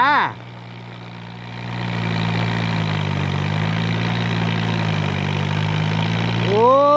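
A farm tractor engine chugs at a steady idle in the rain, loud and near, with brief rising whines at the start and end.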